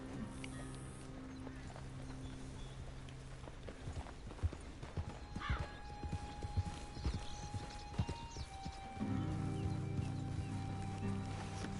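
Horse hooves clip-clop in Red Dead Redemption 2, with a whinny partway through and a low droning layer toward the end, all fairly quiet and unaccompanied by talk.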